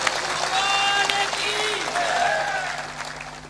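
A satsang audience gives sustained clapping with women clapping loudly, a dense crowd applause that carries through and gradually fades. A voice can be heard faintly over it.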